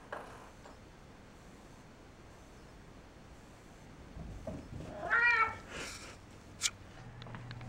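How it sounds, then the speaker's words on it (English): A cat gives a short, clear meow after a long stretch of quiet indoor room tone, followed by a brief faint squeak. "Kitties."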